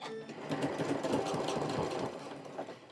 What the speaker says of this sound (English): Now I'm going to sew all the way around, about 1/8 of an inch from the edge.